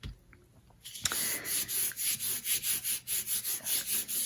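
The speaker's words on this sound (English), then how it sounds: "So just give it a nice burnish down, just like this." Heavyweight chipboard is burnished down by hand, a rapid series of rhythmic rubbing strokes, about a dozen close scraping swipes following a brief quiet start.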